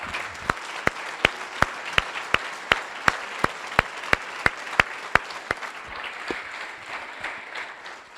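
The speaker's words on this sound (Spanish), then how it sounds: "No, si le va a dar un aplauso a Dios, déselo fuerte." A church congregation applauds loudly in praise of God during a Sunday service, a crowd of hands under strong, evenly timed rhythmic claps that keep a fast beat for about five seconds before the clapping thins and fades.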